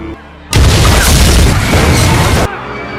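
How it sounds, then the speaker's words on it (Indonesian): A sudden loud boom from an explosion near the White House in an action film bursts in and roars as a dense, sustained blast for about two seconds before cutting off, with quieter background sound on either side. "tiba-tiba saja terjadi ledakan yang membuat orang-orang di sekitar sana berhamburan dan melarikan diri"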